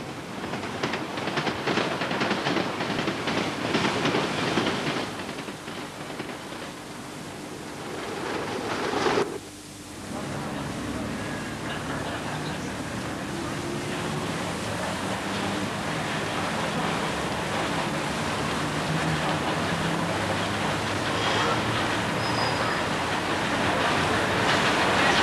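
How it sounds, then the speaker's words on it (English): A new London Underground tube train passes at Finchley Road with a loud, sustained rail rumble and clatter. The sound dips briefly partway through, then builds again as the cars roll by. "Press followed up in a new tube train, and it was arranged for us to pass it at Finchley Road"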